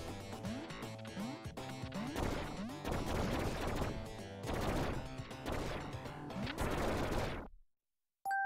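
Rapid, chaotic bursts of sci-fi blaster cannon fire and explosions in Duck Game, loud and dense, ending abruptly in silence before a short beep.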